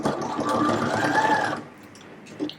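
A sewing machine runs in one steady burst for about a second and a half while stitching a jacket pocket, then stops and leaves a quiet room with faint handling noise.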